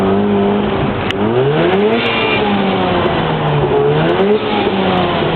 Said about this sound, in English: You hear that backfire?